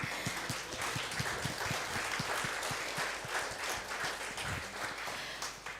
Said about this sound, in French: il faut beaucoup les applaudir